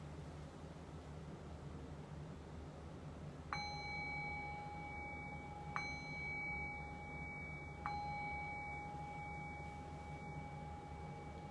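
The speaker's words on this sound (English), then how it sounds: "I'll ring the sound of the bell to signal the end of this guided meditation" A meditation bell rings at the close of a guided meditation, three clear, ringing strikes a couple of seconds apart, each sustaining a pure tone over a faint, hissy quiet room.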